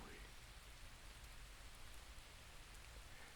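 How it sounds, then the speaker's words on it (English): Gentle rain falls steadily in an even, hissing patter on surfaces, very faint and continuous with no other distinct sounds. "just gently bring it back to the peaceful sound of the rain"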